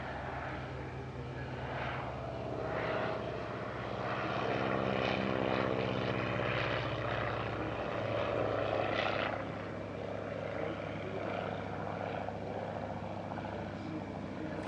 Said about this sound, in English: it's an MS-505 Criquet, a French reimagining of the Storch